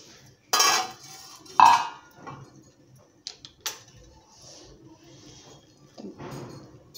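A lid comes off a pot of vegetable dum biryani with a few sharp metallic clinks and scrapes, close and fairly loud, followed by softer clatter and quiet gaps.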